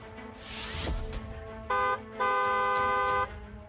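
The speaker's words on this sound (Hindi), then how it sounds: "दूसरों को भी सावधान करने के लिए हॉर्न बजाएं।" A vehicle horn sounds twice, a short toot then a longer blast, following a brief whoosh of passing traffic.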